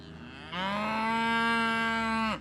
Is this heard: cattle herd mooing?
yes